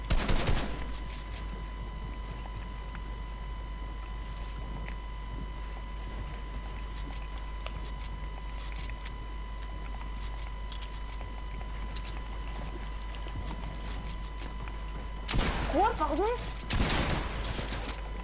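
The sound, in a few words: gunshots in the video game Fortnite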